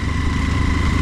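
A motorcycle engine hums in a steady, close, low drone with a constant pitch and no clear rise in revs.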